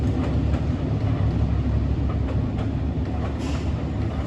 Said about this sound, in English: Wow, train sound is so romantic, I like it.